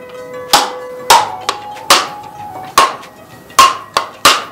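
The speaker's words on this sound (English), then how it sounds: "So that is loosening the meat from the skin, okay? From the shell." Six sharp, ringing knocks sound as the back of a knife taps a broken coconut shell held in the palm. The strikes are loud and close, spaced roughly evenly, and each one rings briefly before fading.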